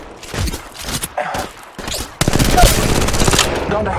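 Rapid automatic gunfire from a multiplayer Apex Legends Mobile battle: scattered shots first, then a loud, dense, sustained burst of firing that runs without a break to the end.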